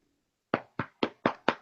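Five slow, evenly spaced hand claps, sharp and distinct against near silence, each ringing briefly before the next, with a faint murmur just before the first.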